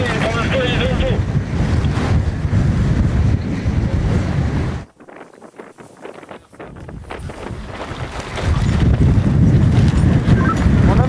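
Strong wind buffets the microphone outdoors in the Var, a loud roaring rush that drops away briefly in the middle and then returns at full force.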